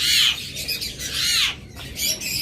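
Caged pet birds let out loud harsh squawks, two long rasping calls close by with short chirps and flutters between, no voices.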